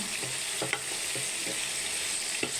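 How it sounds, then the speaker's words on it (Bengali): Pointed gourd (potol) pieces fry in hot oil in a wok, with a constant close sizzle and soft, irregular stirring clinks throughout. "এখন আমি এতেই পটলগুলো ভেজে নিব।"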